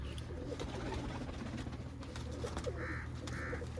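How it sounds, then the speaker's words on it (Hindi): Racing pigeons, summer champion birds on a rooftop loft, coo in soft repeated phrases amid steady background noise, with a few brighter bird calls near the end. "ये गर्मियों के चैंपियन कबूतर हैं जो गर्मियों में इस बार उड़े हैं।"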